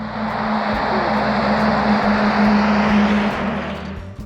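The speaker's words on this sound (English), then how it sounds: "you can't quite escape the sound of traffic" Traffic on a busy road right outside a rural farmhouse property, a loud continuous vehicle roar with a droning engine hum that swells and fades slightly as cars pass, no voices.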